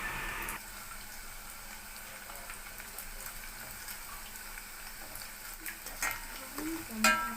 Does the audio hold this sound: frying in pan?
yes